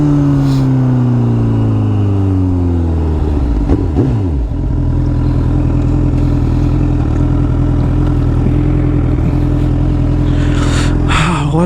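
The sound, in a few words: Honda CBR1000RR superbike flyby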